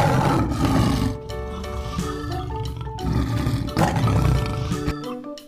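Two lions roar in long, loud, repeated bursts, heard up close over a dense layer of music-like background sound, with no talking.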